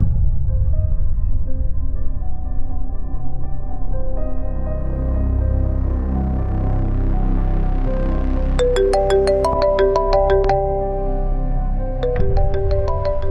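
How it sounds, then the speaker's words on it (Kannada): An incoming-call ringtone on a mobile phone in a Kannada TV serial scene: bright, repeating melodic tones begin partway through and cut in again near the end over a low, sustained musical drone. "ಅದಕ್ಕೆ ಪ್ರಿಯಾ ಕಾಲ್ ಮಾಡ್ತಿದ್ದಾಳೆ."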